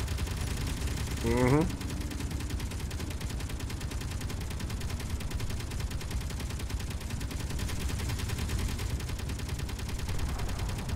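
Automated gun turrets in the video game Space Engineers firing in a steady rapid stream of shots for the whole stretch, fairly distant and sustained, with a short voiced murmur early on.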